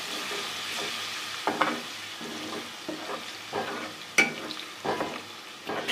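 Golden fried onions with garlic-ginger paste sizzling in a pan, stirred at intervals: a steady frying hiss broken by several scraping spoon strokes and one sharp clink, close and without speech.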